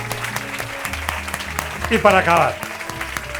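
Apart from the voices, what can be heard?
audience applause for the four speakers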